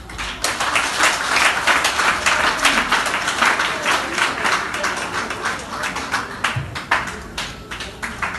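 An audience applauds steadily at a Women's Day event, a dense wash of many hands clapping that holds for several seconds and gradually thins toward the end.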